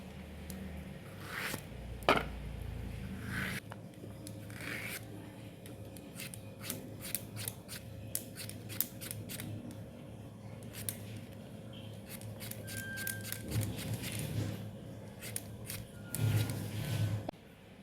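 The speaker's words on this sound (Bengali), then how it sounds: "এটাকে এইভাবে আমি কেটে নেব সমস্ত চাল কুমড়োগুলোকে" Knife slicing through young, tender ash gourd (chal kumro) on a board for a vegetarian Bengali recipe: a steady series of crisp, close cuts and taps with soft handling noises between them, no talking.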